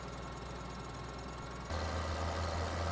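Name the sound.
tractor engine in video game Farming Simulator 2013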